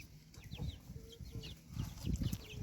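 Young chicks and guinea fowl chicks peep and cheep in a poultry yard, with high chirps scattered over low clucking from older fowl and faint background rustle, all at moderate distance.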